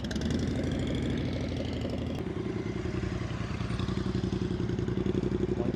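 A Harley-Davidson Low Rider ST motorcycle idling and creeping through slow-speed cone practice, a loud close uneven engine rumble with clattery pulses that shifts slightly partway through, no talking.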